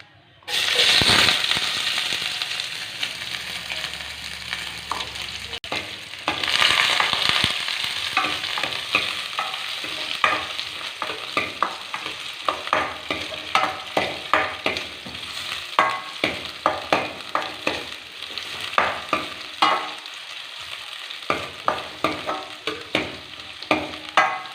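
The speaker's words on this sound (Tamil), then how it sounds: "நெக்ஸ்ட்டு நம்ம பொடியாக கட் பண்ணி வச்சுருக்க வெங்காயத்தை இதில் ஆட் பண்ணிக்கலாம்." Chopped onions sizzle and crackle in hot oil in a pan with cinnamon pieces, loud steady frying with repeated stirring scrapes, no voices.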